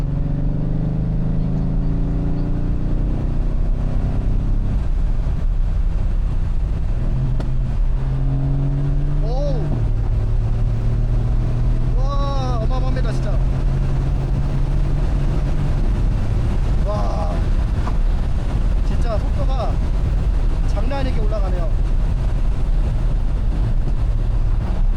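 A Mercedes-AMG C63 S rear-wheel-drive V8 accelerates hard in race mode, its loud engine roar climbing through quick gear changes, heard from inside the car amid steady road and wind noise.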